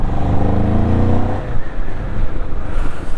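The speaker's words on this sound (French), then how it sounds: "cette Calibro 650, c'est une moto impressionnante quand on est à côté." A Moto Morini Calibro 650 motorcycle runs close and loud, its engine note steady and harmonic at first, then giving way to a rougher, fluctuating roar with wind noise as it keeps riding.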